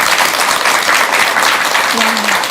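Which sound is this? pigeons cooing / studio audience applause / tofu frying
studio audience applause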